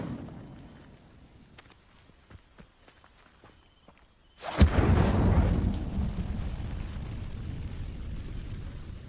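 In Hogwarts Legacy, the Incendio fire spell ignites dry vines. Soft footsteps come first, then a sudden loud whooshing burst of flame that settles into a sustained roaring crackle, with no talking.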